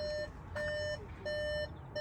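A 2025 Volkswagen Crafter 2.0 TDi high-roof van sounds a warning chime with the ignition on, three clear sustained beeps evenly spaced inside the quiet cabin.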